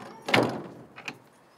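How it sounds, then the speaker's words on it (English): A door is shut close by with one solid thump, followed a moment later by a softer knock, while staff prepare to place an incubator-hatched eaglet back in its nest. "Laura, you wanna shut that door real quick?"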